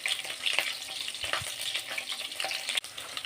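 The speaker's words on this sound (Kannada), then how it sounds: "ಸ್ವಲ್ಪ ಫ್ರೈ ಆಗಲಿ ಹಸಿಮೆಣ್ಸಿನ್ಕಾಯಿ." Green chillies frying in a pan for mutton bheja fry, giving a close, steady sizzle with faint stirring scrapes and a few soft clicks over about three seconds.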